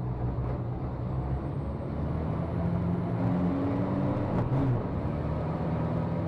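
Heavy racing trucks roar in a dense, steady engine rumble at the start of a European Truck Racing Championship race in Budapest, sixteen trucks charging toward the first corner, with a brief sharper surge midway.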